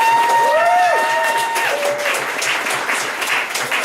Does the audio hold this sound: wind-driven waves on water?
no